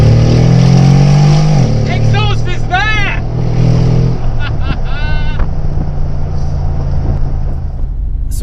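A Brabus G700 Widestar Mercedes with side exit exhausts idles with a low droning engine note that swells, dips and rises again, while a person talks over it throughout.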